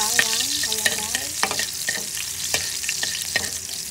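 Garlic frying in a hot pan for a bitter melon and eggplant dish, a bright continuous sizzle with a few scraping stirs and clinks, close up and with no talking.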